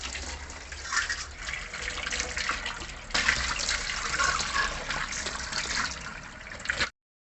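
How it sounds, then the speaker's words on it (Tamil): Water runs and splashes steadily as a brass pooja lamp plate is rinsed, a close, continuous broadband wash with a brief louder surge midway, then stopping abruptly. "இப்போ நார்மலாக நம்ம வாட்டரில் வாஷ் பண்ணிக்க வேண்டியதுதான்."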